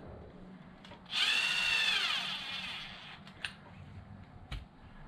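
A power driver runs two small screws into the waterproof cover of an RC car: a loud, steady whine rising then tapering over about two seconds, followed by a few faint clicks close by.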